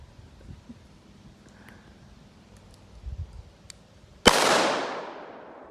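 A single sharp, loud gunshot cracks out near the end while shooting at cans outdoors, its decaying echo trailing off after quiet background rustling and faint movement.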